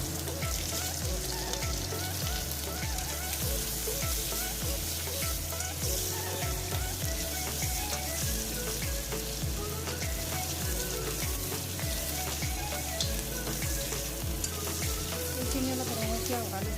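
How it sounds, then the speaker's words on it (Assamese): Onions, chillies and bay leaves sizzle and crackle in hot oil in a pan, a dense steady frying hiss with repeated scraping stirs throughout. "এইখিনি অলপ ৰঙচুৱা হোৱালৈকে ভাজি লওঁ।"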